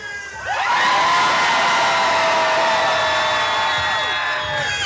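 A large crowd at Halloween Horror Nights screams and cheers loudly and continuously, with shrill shouts and whoops rising over the roar.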